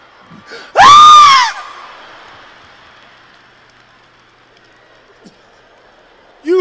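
A comedian gives one loud, high, wavering imitation of a child's scream for about a second on a stand-up stage, then the room falls to faint background murmur.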